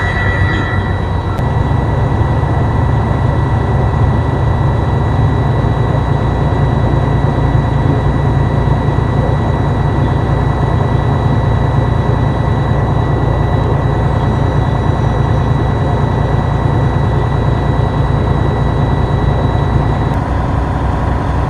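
Heavy truck engine idling steadily during a pre-trip inspection as air brake pressure builds, a constant loud low rumble with a faint steady whine, no talking, continuous for the whole stretch.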